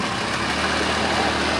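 An inline-six motorcycle engine at a cars-and-coffee meet in Portland drones with a steady, even hum at close range for a brief moment.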